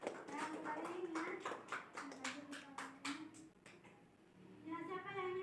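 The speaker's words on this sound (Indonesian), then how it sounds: "kita berikan tepuk tangan kepada saudara kita" Clapping hands from a classroom audience at a university teaching session, brief claps under a speaking voice that continues over the top.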